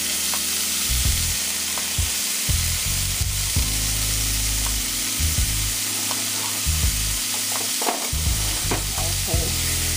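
Asparagus seasoned with salt and pepper sizzles steadily in a hot pan, a close, continuous frying hiss with low rumbling shifts as it is moved about.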